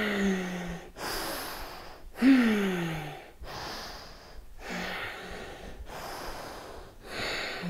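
A yoga instructor breathes deeply in and out during a session. Roughly eight soft, breathy rushes follow at a steady pace of about one per second, close and fairly quiet, with no talking.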